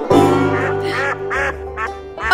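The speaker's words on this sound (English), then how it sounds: "It sounds like a quack, quack, quack, quack, quack," A duck quacks repeatedly in a children's farm-animal song, with five or six loud, nasal quacks in quick uneven bursts over a steady low tone.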